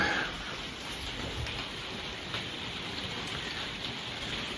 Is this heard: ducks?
no